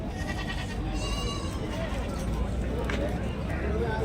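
Goats and young kids bleating at a Saturday livestock market in Angallu, several calls overlapping against a busy crowd murmur and nearby chatter throughout.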